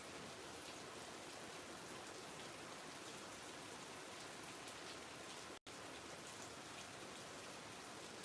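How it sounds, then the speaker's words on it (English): Steady rain falls outdoors, a continuous even hiss of drops on surfaces with no talking, broken only by a split-second dropout near the end. "It's raining outside now."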